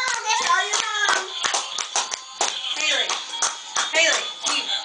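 Several people clap their hands in a quick, uneven rhythm for a small girl dancing at home, with a voice and adult chatter mixed in throughout.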